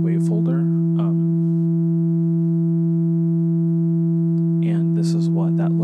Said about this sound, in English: now we're looking at the sine wave through the bottom section of the wave folder